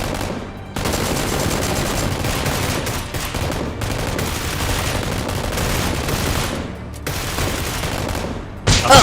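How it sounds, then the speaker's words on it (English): Rapid gunfire from a Nerf gun fight scene with robbers and a SWAT officer, a dense continuous volley of shots with brief pauses, loud and close, no talk. "The robbers chase her and shoot fiercely."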